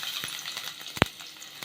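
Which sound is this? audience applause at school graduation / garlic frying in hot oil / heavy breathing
garlic frying in hot oil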